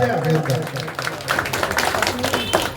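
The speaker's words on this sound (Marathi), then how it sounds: "टाळ्या होऊ द्या." Applause from an audience at a felicitation ceremony held at a private home, scattered clapping rising from the start and mixed with nearby voices talking throughout.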